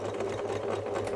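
A sewing machine runs close and steady, its rapid needle rhythm continuous throughout the short stretch, as it stitches a seam on a teddy bear's fabric tummy.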